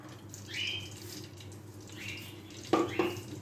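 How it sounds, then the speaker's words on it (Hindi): Melted butter is poured over dal makhani, giving a soft watery trickle with a couple of brief splashy pours near the end, close and fairly quiet. "गर्म किया हुआ, जो मेल्ट किया हुआ हमारा बटर है वो हम डालेंगे"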